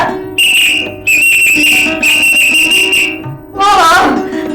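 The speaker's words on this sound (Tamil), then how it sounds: "அதுக்கு விசிலே சவுண்ட் கொடுக்குறான்" A piercing whistle from a Tamil comedy drama sounds in long sustained blasts, broken by short gaps, then a final wavering, warbling burst.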